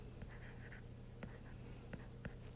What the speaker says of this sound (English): So we're going to write out cosine law.